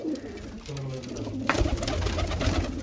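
Pigeons kept as a hobby coo nearby, low hollow calls repeating in a steady run, with some rustle and background activity rising partway through.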